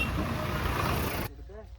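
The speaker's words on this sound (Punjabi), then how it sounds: "ਬਹੁਤ ਟਰੈਕਟਰ ਜਾ ਰਹੇ ਨੇ" Many tractors on a rural Punjabi road beside a wheat field during a farmers' protest rumble past in a loud, dense engine drone that cuts off abruptly, followed by a fainter voice speaking.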